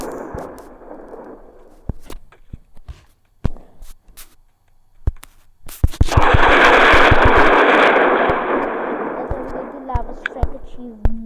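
Bombs drop and explode in WorldBox, a scatter of sharp pops and cracks followed by a long, dense rumbling burst of blasts, crackling impacts trailing off afterward.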